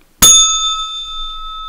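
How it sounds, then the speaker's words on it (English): A bell is struck once, sharply and close, then rings on with a long, clear, steady high tone that slowly fades, with no talking over it. "don't think that bell ever quite hit that note before."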